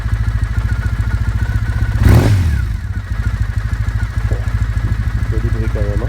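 A cold Triumph Bonneville T100 British twin motorcycle engine idles with a steady, lumpy low throb, briefly rising once in a short rev before settling back to its rhythmic idle.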